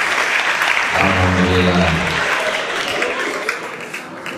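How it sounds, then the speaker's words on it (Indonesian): Applause from an audience at an Islamic talk, a dense steady clatter of many hands running the whole stretch, with a voice speaking briefly over it partway through. "Tepuk tangan."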